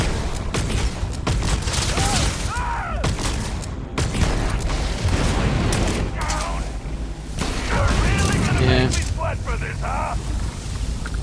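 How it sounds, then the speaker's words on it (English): Particle beam weapon fire in the Starfield video game, with repeated sharp energy bursts and zapping shots scattered among other combat noise, loud and close, while someone talks over much of it. "I think you can enjoy this particle beam weapon I've got."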